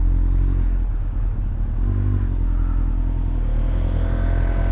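A Vespa scooter engine drones steadily and close by, a continuous low rumble with slight revving and no pauses.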